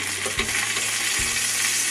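A pork burger sizzles loudly on a Weber kettle barbecue as it is flipped, a steady close crackling hiss throughout with a couple of soft thumps from the turn.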